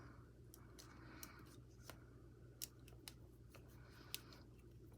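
Scissors cutting fabric for a crochet bag lining: soft, irregular snips and crisp clicks of the blades, close but faint, over a quiet room hum with no talk.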